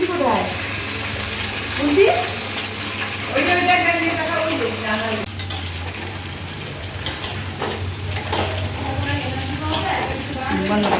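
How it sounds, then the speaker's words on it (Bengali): Potatoes fry in a little oil in a pan for biryani, giving a soft, steady sizzle with occasional stirring scrapes, heard beneath a person talking. "যতক্ষণ আলুটা এখানে ভাজছি"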